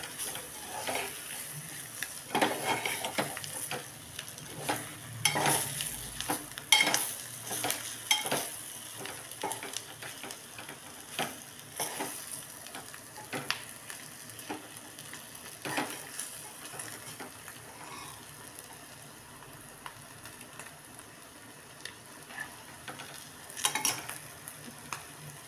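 Onions frying in a pan of oil with half a spoon of oil added, a steady sizzle with repeated stirring scrapes and clinks running throughout, fairly close and moderately loud, no voices.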